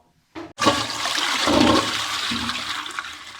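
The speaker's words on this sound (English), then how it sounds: "So now I need to flush." A toilet flushes nearby in one loud, gushing rush of water that swells and then slowly subsides into a trickling refill, preceded by a short click of the handle.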